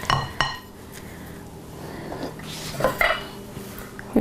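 A spoon clinks against dishes and a small cup, with a few sharp, bright knocks spaced apart and quiet kitchen handling noise between them.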